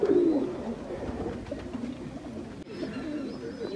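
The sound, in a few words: pigeons cooing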